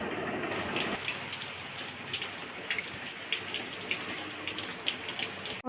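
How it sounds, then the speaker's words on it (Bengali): Light drizzling rain pattering steadily at night, a soft continuous wash of drops with small irregular ticks, fairly quiet and unbroken. "ঝিরঝির করে ঘরে এসে বৃষ্টি পড়ছে।"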